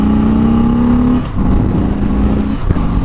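A car engine revs hard at full throttle on a mountain road at about 7,000 feet, a loud rising drone that drops briefly around a gear shift and then climbs again, close and alone.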